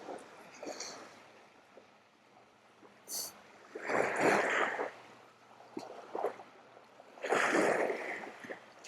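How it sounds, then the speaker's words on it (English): Ocean waves wash ashore at a Provincetown beach garden, two soft surges rising and receding, fairly distant and gentle, with faint background noise between them. "I'm just enjoying the sound of the waves and of the quiet, despite the cars zipping by"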